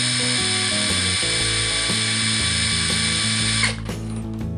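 A cordless impact driver runs at full trigger, giving a loud, steady, high-pitched motor whine with rapid hammering that stops abruptly near the end of the clip.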